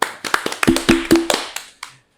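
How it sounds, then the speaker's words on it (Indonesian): A handful of people in a small audience at an Indonesian talk event with two regional legislative candidates clap briefly in a loose, sparse patter of separate claps. The sound stays close and dry and dies out after about two seconds. "Tepuk tangan dulu dong."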